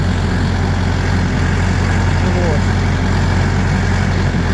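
A heavy tractor engine idles close by with a steady low rumble that holds constant throughout.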